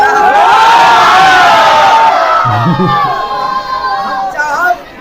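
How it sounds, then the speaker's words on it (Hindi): A large crowd at a village gathering for a Bhojpuri star roars and cheers loudly and continuously, with shouts rising over the din until it cuts off near the end. "ये देखिए कितना ज्यादा भीड़ है।"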